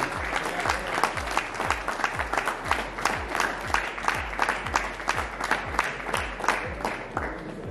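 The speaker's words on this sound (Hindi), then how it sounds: "ताली होनी चाहिए बदर भाई के लिए" An audience at a Markhor Super League shirt launching ceremony gives a steady round of applause. The many hands clap rhythmically at moderate volume, and the clapping carries on without a break.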